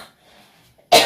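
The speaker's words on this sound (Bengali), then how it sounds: "হালকা কাশি, না জানি ঠান্ডা লেগে গেছে" A single light cough at the very end, loud and close, following near-silence with faint room noise.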